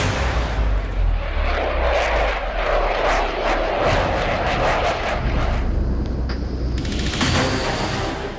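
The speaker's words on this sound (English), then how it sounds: "The Rafale is a beast of a jet, powered by twin-jet engines that make it one of the most agile aircraft in the air." Dassault Rafale twin-engine fighter jet roaring loudly and steadily throughout, a broad continuous engine rush with a brief dip and renewed surge near the end.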